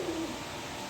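A pair of Afsan grizzle pigeons coos softly and close by, a brief low throaty call at the start, then a steady murmur of background noise with no talking.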